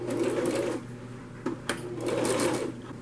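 A sewing machine stitches faux crocodile upholstery fabric to its lining in two close, loud whirring runs separated by a short pause with a couple of clicks.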